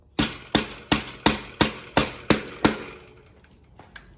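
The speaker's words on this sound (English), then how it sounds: "so we're gonna do a quick hammer" Seven sharp, evenly spaced hammer blows drive a Brooks bar end plug into a bicycle handlebar, each strike ringing briefly before the next, with one faint tap trailing after.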